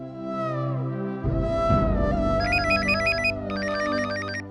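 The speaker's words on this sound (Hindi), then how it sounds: "अभी इस वक्त किसका फोन है?" A phone ringtone chimes in a repeating electronic melody, loud and close, over a sustained musical background.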